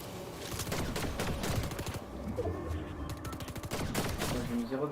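Rapid gunfire in the video game Fortnite, dense bursts of overlapping shots that continue throughout with short lulls, loud and busy, with some game noise mixed in.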